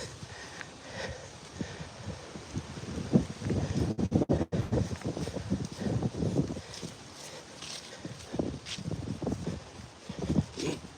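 Gusty wind buffets the microphone in rough, uneven bursts, loud and close, with no talking.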